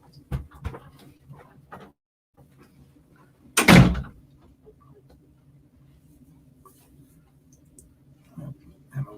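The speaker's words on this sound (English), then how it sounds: "Close the door for that." A door pushed shut in a room during a live radio broadcast, one loud thud near the middle, with scattered light voices and a steady low hum around it.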